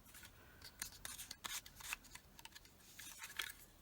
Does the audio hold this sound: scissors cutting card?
yes